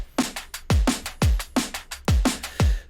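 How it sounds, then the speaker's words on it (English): Punchy drum mix through a drum bus: kick drums with deep decaying thumps alternate with snappy snare and hat hits in a steady, repeating groove, loud and dry with no talking. "I've got all of my drums going to a drum bus or a drum mix, and they sound like this."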